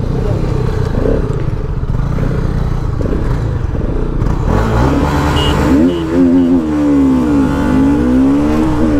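A Bajaj Pulsar RS200 BS7 motorcycle accelerates hard during a long race against a Honda CB300F, its engine note loud and close, climbing in rising revving sweeps through the gears.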